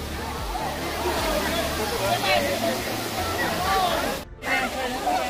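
Rani Jharna waterfall near Ranimahal in Palpa, Nepal, gives a steady, loud rushing roar of falling water, close at hand, while people bathing nearby talk and call out over it.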